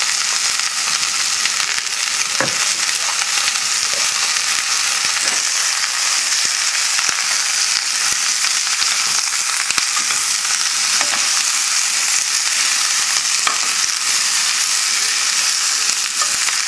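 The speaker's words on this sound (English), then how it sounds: "add the vegetables now. And you should use a pot that's just big enough to hold the ingredients." Vegetables sizzle loudly with pork hock in a pot over a high flame, a steady dense frying hiss throughout with occasional stirring clatters and pops.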